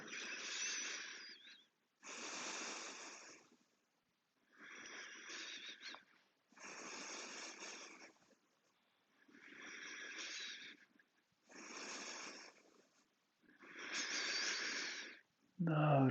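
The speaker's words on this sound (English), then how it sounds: "We'll take a few breaths here." Slow, deep yoga breathing during a home class, seven or eight long airy inhales and exhales with short pauses between them, close and soft.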